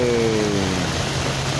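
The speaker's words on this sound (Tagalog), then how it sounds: "Maulan ngayong umaga ng Sabado." Steady rain falls on a Saturday morning along Manila Bay, a continuous even hiss with no pauses or separate drops, and a low hum runs beneath it.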